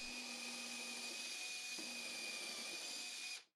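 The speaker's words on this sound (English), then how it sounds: "So I drill the pilot hole" A steady high-pitched whine of a power drill boring a pilot hole in wood, running continuously, close by, with a brief change in load midway before it cuts off.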